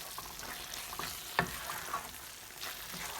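Paneer bhurji stirred in a pan over medium-low heat, a soft continuous sizzle with a faint scrape of the spoon partway through, quiet and close.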